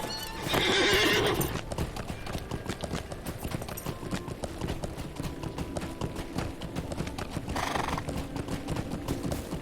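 A horse trots in Lord of the Rings Online, its hooves clip-clopping in a steady, rhythmic patter throughout, with a loud whinny near the start and another shorter neigh toward the end.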